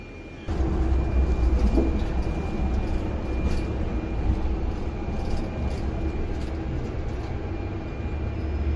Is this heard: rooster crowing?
no